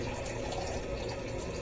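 Water pours into a container to soak glass noodles, a steady rushing, gurgling fill sound running throughout at close range.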